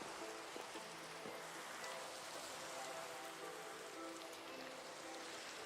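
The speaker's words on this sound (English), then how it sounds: "The rain sounds." Rain falls during a thunderstorm in a blocky survival video game, a soft, steady hiss of drops heard faintly and continuously, with faint tonal hum beneath and no talking.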